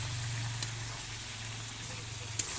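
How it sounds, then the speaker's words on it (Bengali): Meat fries in a pan, a low continuous sizzle with occasional scraping stirs and a sharp knock of the utensil near the end. "মাংসটা একটু নাড়াচাড়া করে নিলাম"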